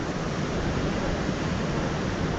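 Big ocean waves rolling onto the surf beach at Orio, a continuous roaring wash of surf that stays loud and even throughout.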